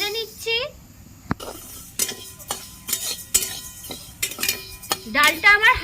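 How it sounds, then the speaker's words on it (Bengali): Mung dal being fried and stirred in a wok: a metal spatula scrapes and clinks against the pan in irregular strokes over a soft sizzle, with a voice speaking briefly at the start and end. "মুগ ডালটা আমি ভেজে নিচ্ছি।"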